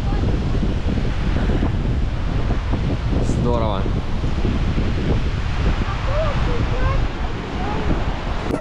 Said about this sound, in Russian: Дует такой прохладный ветер